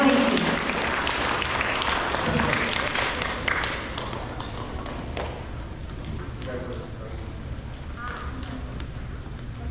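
Applause for elementary school merit roll award winners fills a room, a burst of clapping from a crowd that thins and fades over several seconds, with voices and footsteps underneath.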